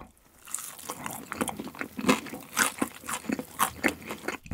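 Someone bites into crispy fried chicken, and a run of crunchy bites and chewing follows at an uneven rhythm, close to the microphone, with no talking.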